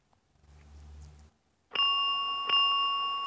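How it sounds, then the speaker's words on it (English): Two signal box bells echo back in a model railway signalling simulation. A low hum fades out first, then two clear, ringing bell strikes sound about a second apart and sustain to the end. "we should get echoed back two bells to acknowledge that."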